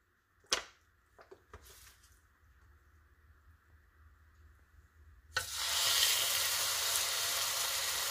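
Chicken pieces drop into hot oil in a Ninja cooking pot, setting off a sudden loud, steady sizzle that fills the rest of the clip after a few quieter clinks and handling noises.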